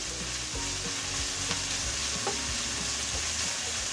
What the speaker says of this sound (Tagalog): pinakukuloan ko na po ang gata